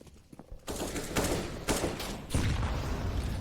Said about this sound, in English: With these Deagles.